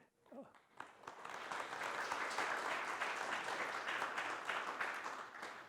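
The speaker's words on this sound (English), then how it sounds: "let's, give a round of applause to the panelists." A conference audience applauds a panel on renewable energy. The clapping swells quickly after a brief voice and holds as a steady, full round before tapering slightly.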